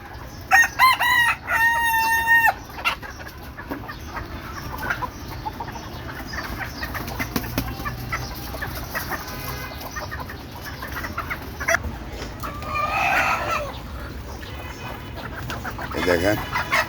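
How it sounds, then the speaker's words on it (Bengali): Chickens let out to feed cluck and call close by, with a rooster crowing loudly at the start and scattered clucks and squawks continuing while someone talks. "মুরগি ছাড়তেছে, দেখেন।"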